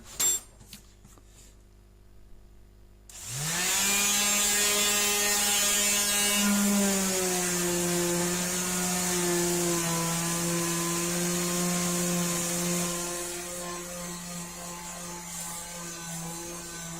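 A repaired electric sander with a worn-out sheet of sandpaper starts up after a few faint knocks and runs steadily and loudly, a rising motor whine settling into a constant hum with no talk over it.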